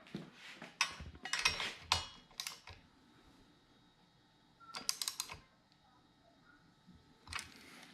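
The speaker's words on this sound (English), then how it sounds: "we're going to hit it with a 1/2 inch socket and ratchet, and we're going to tighten them down." Ratchet clicks from a half-inch socket and ratchet tightening handguard bolts on a Harley-Davidson Dyna FXDLS motorcycle; several short bursts of rapid close clicking separated by quiet pauses.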